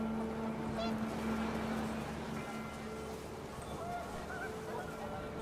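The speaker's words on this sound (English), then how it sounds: "The wind picked up, and panicked geese appeared and quickly went." Panicked geese honk in the video game What Remains of Edith Finch, with brief calls heard over a steady bed of wind and game ambience. Some talk runs faintly underneath.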